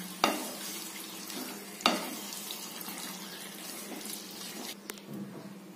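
Ongole chicken curry being stirred in a pan over a medium flame, the chicken cooking in its own water: two sharp spoon knocks against the pan over a steady close sizzle and scraping, with no talk.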